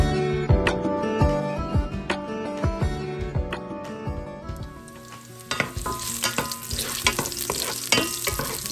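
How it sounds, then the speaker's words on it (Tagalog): Vegetables and chicken sausage stir-fry in a pan with loud sizzling and repeated sharp clanks and scrapes of a utensil, the hiss swelling louder partway through, no voices. "going to cook stir-fry vegetable with chicken sausage"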